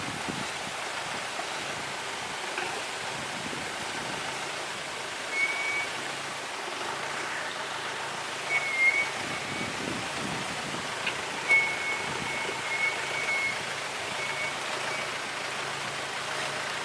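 Water flows steadily in a forest stream near Kanthalloor, a continuous broad rushing wash at moderate distance, with a few faint knocks over it.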